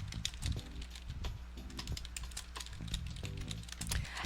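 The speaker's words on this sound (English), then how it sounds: "I don't know the URL, but let me type it here" Continuous typing on a computer keyboard, rapid irregular key clicks close up with short pauses, no voices.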